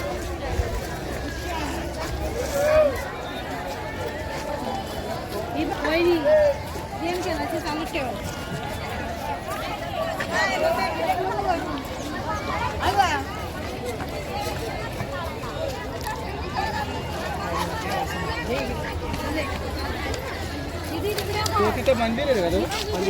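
Busy outdoor hubbub from a large crowd of pilgrims bathing at the Chandrabhaga river in Pandharpur, with a continuous murmur of voices and someone talking close over it.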